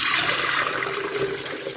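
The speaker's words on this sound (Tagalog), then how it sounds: "may pinakulo na akong tubig kanina. Medyo maligam-gam na siya. Kasi kailangan nito gamitin maligam-gam. So, ibubuhos ko dito." Warm water poured into an electric kettle, a continuous close splashing and gurgling stream lasting under two seconds, loud and with no voices.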